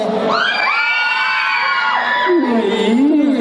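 A large crowd of fans shrieks and cheers continuously at the Thailand gala premiere of Fantastic Beasts: The Secrets of Dumbledore, high overlapping screams holding loud and steady throughout.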